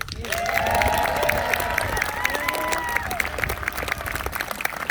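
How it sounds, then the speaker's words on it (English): An audience at a horse show claps in sustained applause that swells early and then carries on with scattered claps, while a voice speaks over it through a loudspeaker. "Please give a round of applause to our beautiful horses."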